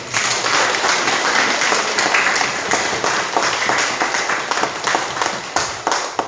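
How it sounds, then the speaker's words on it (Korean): A church seminar congregation gives a steady, hearty round of mutual encouraging applause, many hands clapping together close and loud throughout. "서로 격려하는 박수"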